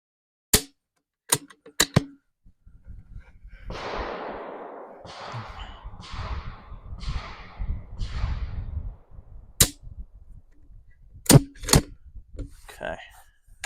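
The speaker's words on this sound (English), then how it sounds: "I dry fire." Dry firing a 6mm GT rifle on a controlled range: several sharp, isolated metallic clicks, spaced irregularly, with a burst of shuffling and handling noise in between and light talk nearby.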